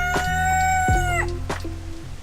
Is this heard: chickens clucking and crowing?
yes